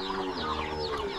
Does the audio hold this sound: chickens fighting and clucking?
yes